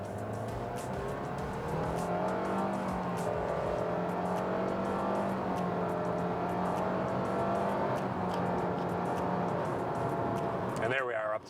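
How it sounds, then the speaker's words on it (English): A 2022 Mitsubishi Outlander with a CVT accelerates from a standstill at full throttle, its engine holding a steady, sustained drone from inside the cabin. A voice talks over it throughout. "let me give you some full throttle acceleration here"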